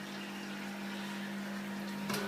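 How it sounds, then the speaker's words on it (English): A pump draws water into a homebrew mash tun, a steady low hum with a constant drone and soft watery hiss, plus a brief clank near the end. "open up the valve on the pump and start to bring in 6 gallons of water"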